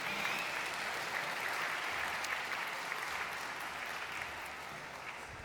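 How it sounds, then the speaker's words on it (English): Sustained applause from an awards ceremony audience, steady and dense throughout and easing slightly toward the end, with no talking over it. "Big round of applause"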